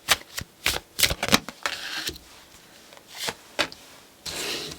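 Tarot cards being shuffled by hand, a series of crisp riffling and slapping bursts, some quick and clustered, others spaced apart, with a longer soft riffle near the end, close and clear with no talking.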